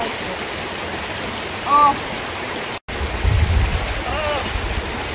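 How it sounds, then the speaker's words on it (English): Flowing river water surrounds someone sitting in a cold river for an ice bath, a steady broadband rush close by, with a short exclamation from the bather partway through. "Sitting in the river!"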